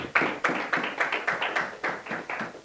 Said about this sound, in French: Let's clap for the word of God.